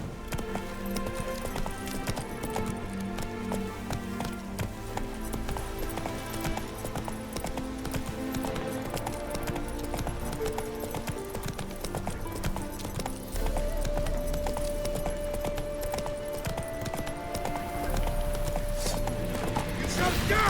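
A horse gallops in The Witcher 3 video game, its steady rhythmic hoofbeats continuing under game music and voices throughout.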